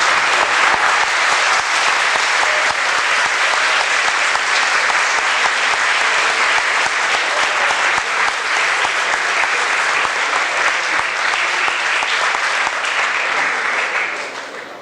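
Sustained audience applause at the close of an academic lecture, a dense steady clapping that fills the hall for about fourteen seconds before starting to fade at the very end, with no talk over it.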